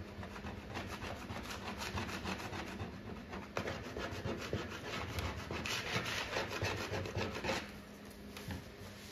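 A Bondo spreader scrapes old paint off a wooden arcade cabinet, producing steady, close, rasping strokes in a continuous rhythmic run with no voices.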